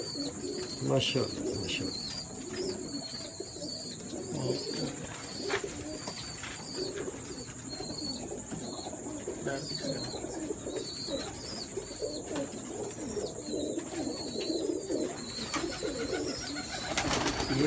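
Indian Firozpuri pigeons, a long-established breed, coo continuously in a loft, with layered low burbling calls close by and a man briefly exclaiming over them.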